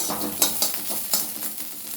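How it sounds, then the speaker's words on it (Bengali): Sliced banana stem being stirred and fried in a pan, a soft steady sizzle broken by a few sharp scrapes of the spoon against the metal. "মিনিট 2 মতন এরকম নাড়াচাড়া দিলে পরে মোটামুটি একটু ভাজা ভাজা হয়ে আসছে"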